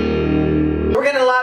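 A Fender '68 Deluxe Reverb tube amp, cranked up, sustains a gritty, crunchy guitar chord that cuts off and gives way to a new, brighter chord, loud and close.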